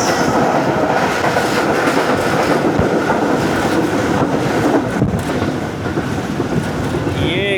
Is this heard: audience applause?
no